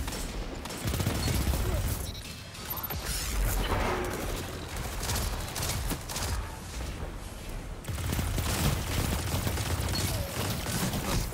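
Continuous close gunfire in a Destiny 2 Iron Banner match, including a pulse rifle: dense rapid bursts and impacts over a busy game-action bed, with a voice talking over it.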